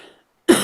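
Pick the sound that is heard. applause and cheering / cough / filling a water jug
cough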